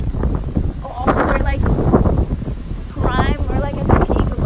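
Strong wind buffets the microphone during a hurricane, a loud, rough low rumble gusting in waves throughout while people talk over it.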